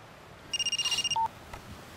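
A telephone rings with a rapid warbling electronic trill in one burst, followed by a short tone, heard indoors during a dubbed TV comedy scene, with no talking over it.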